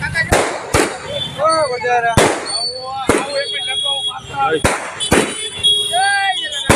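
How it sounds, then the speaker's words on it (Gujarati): Fireworks and firecrackers burst at the 226th Jalaram Jayanti celebration in Amreli, 2025, a string of about seven sharp, loud bangs at irregular intervals with crackling and whistling between them, while people talk nearby. "આતશબાજી કહેવાય આને ધડાકા"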